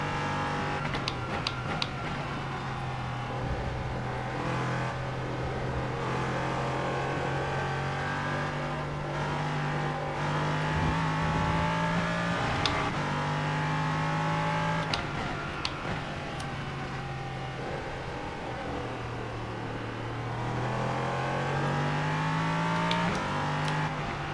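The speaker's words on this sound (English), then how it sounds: "you can just sort of hear that little sort of chattering almost" In the iRacing simulator, LMP3 racing car engines rev and drone continuously while tyres lock up with brief chattering squeals under heavy braking, loud and close throughout.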